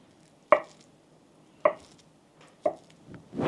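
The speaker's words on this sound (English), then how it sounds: "I'm going to cut this into small cubes." Vegan cheese is cut into small cubes with a knife on a board, three crisp separate chops about a second apart against near silence, then a rustling scrape.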